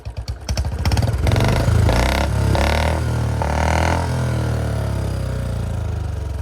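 A Royal Enfield Bullet 350 motorcycle fitted with an Indori silencer is kick-started and revved, a loud thumping single-cylinder exhaust that blips up in several surges and then settles into a rapid, steady idle thump.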